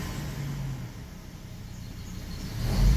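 A 2008 GMC Canyon engine heard from the driver's seat holds a low, steady rumble that swells near the end as the throttle is pressed and the revs climb.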